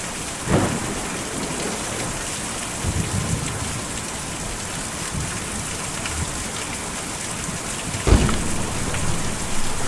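Steady heavy rain with rumbling thunder in the video game Kentucky Route Zero, a constant downpour broken by loud thunder cracks near the start and end, no talking.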